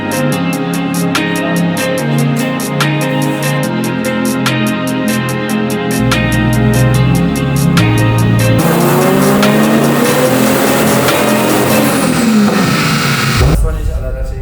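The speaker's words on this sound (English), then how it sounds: "The car's on a dyno and we're gonna try to tune it now." A 500 hp Toyota JZX100 with a 2JZ engine runs on a dyno, holding a steady drone before revving up in long rising sweeps over the second half, with loud rhythmic music throughout.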